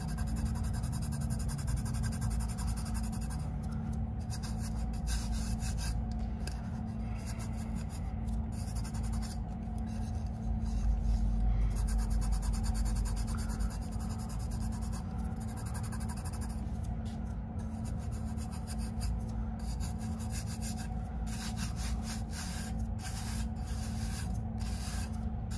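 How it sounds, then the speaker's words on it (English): Nail art tape is rubbed flat on a fingernail for a tack-it ombré, giving a soft, steady, close rasping rub that runs on for a long stretch, faint and without any talk. "try rubbing the other direction and it should fall into place."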